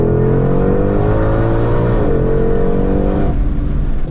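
A Ford Mustang Shelby GT500 with 771 horsepower roars loud and close under hard acceleration, its engine note holding steady, shifting pitch briefly midway, then easing off at the end.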